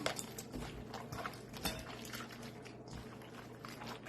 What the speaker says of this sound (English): So then I take my bowl of meat in it, and spread it around like that. and then I mix it up.